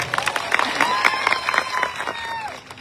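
A crowd at a political rally breaks into steady, energetic clapping with a few cheers, loud and close, amid a busy outdoor hum and a faint sustained tone.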